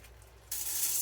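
A pound of dry black-eyed peas pours into an Instant Pot, a sudden rushing rattle of many small beads hitting the metal insert that starts halfway through and continues steadily, close and fairly quiet.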